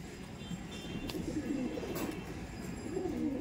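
Madrasi pigeons coo in a steady low murmur from a flock kept in a loft, soft rolling calls overlapping continuously with faint background noise.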